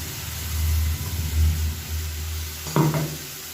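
Tomato paste cooks in oil in a pan with a low, continuous sizzle and bubbling rumble, close by, broken near the end by a brief scrape or clink of a utensil.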